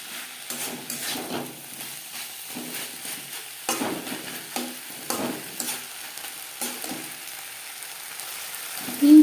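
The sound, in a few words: spring onion stalks being mixed and fried with spices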